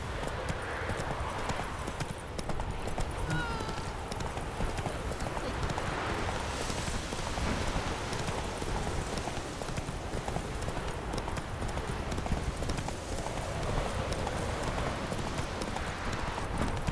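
Roach the horse gallops in The Witcher 3, a fast, continuous clip-clop of hooves close up, steady throughout and layered with ambient game sound.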